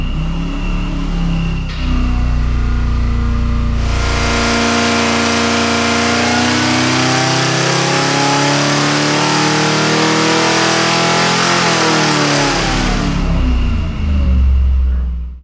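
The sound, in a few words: Ford Cleveland 408 engine revving on dyno to 5,000 RPM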